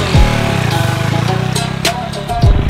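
Motorcycle engine revving with a short burst of throttle for a wheelie attempt, a loud, close, steady drone rising at start and end over about three seconds.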